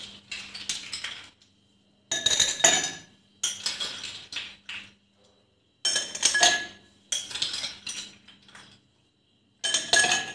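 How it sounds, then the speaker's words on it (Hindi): Ice cubes drop into two glasses in several separate bursts of bright clinking and rattling, each a second or so long with quiet gaps between them, heard up close. "अब मैं इसमें आइस क्यूब डाल देती हूँ।"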